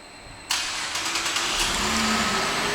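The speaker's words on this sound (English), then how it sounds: "let's do the remote start" A 2011 Cadillac SRX starting by remote: after a quiet moment the engine cranks and catches abruptly, then settles into a steady, close idle.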